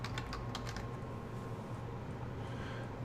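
Steady typing on a computer keyboard while renaming a plot, with quick clicky keystrokes that are densest at the start and continue evenly throughout, heard close and alone.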